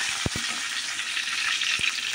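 A cucumber chutney tempering of dried red chilies and curry leaves sizzles in a pan as coriander is stirred in, a steady frying hiss with a few sharp scraping stirs, no speech.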